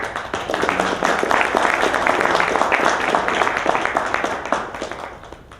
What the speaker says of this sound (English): a round of applause for the members of the panel